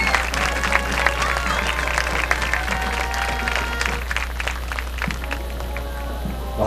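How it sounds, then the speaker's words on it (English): Crowd applause at a high school football game for the homecoming queen and her court, steady clapping mixed with crowd noise and a low hum, with brief voices underneath throughout. "Please give them a round of applause for the Homecoming Court"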